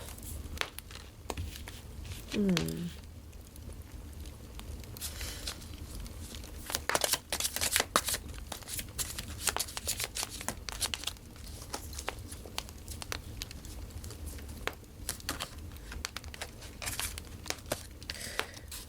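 Tarot cards are shuffled by hand in soft, irregular riffles and crinkly paper rustles, close and fairly quiet, continuing throughout without speech.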